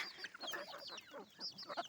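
Chickens on a small farm flock cluck and squawk in a busy overlapping chorus after being fed grain, several birds calling close by in quick irregular bursts.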